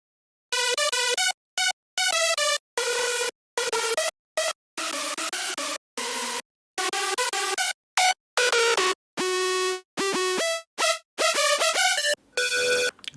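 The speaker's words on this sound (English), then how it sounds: "I'm going to play them individually for you." Hardstyle synth leads programmed in FL Studio, each played solo in turn: bright, buzzy harmonic stabs and short melodic phrases separated by brief silences, loud and dry with no talking.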